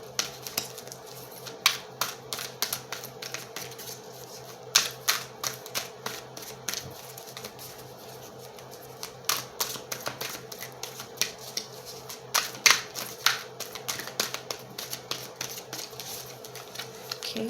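Tarot cards being shuffled and pulled from an Archangel Power deck, heard as irregular crisp clicks and riffling snaps in scattered bursts, close and moderately quiet, with no talking.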